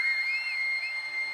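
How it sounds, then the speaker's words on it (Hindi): A person whistles a single high, steady, slightly wavering note that carries clearly and alone for about a second and a half. "ऐसे बजती है सीटी"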